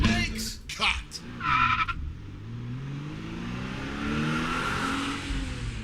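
A car sound effect of hard braking and skidding, with a long tire squeal and engine rev after a short burst of spoken voice, loud and close.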